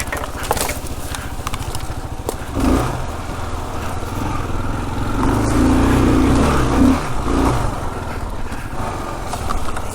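A Kawasaki KLR650 motorcycle rides tight off-road single track, its engine a steady loud drone that swells in the middle, with wind and rough knocks from the uneven trail.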